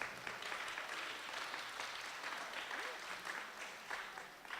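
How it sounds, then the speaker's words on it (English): Steady audience applause fills a room at a Rotary Club senior talent show, many hands clapping in a continuous even wash, moderately loud, with a faint murmur of voices beneath. "Yes, let's give her a round of applause."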